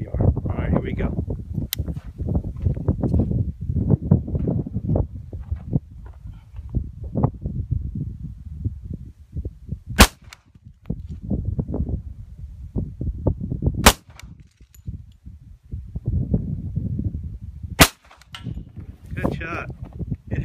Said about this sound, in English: an idea of what it sounds like on a 45 unsuppressed out of the Vector